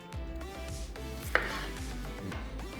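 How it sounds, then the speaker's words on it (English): A knife chops the ends off an onion on a cutting board, with a few firm thuds spaced unevenly against a steady background hum and no speech. "We're gonna top and tail the onion like so."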